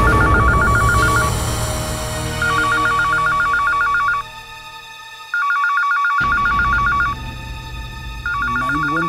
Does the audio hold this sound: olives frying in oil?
no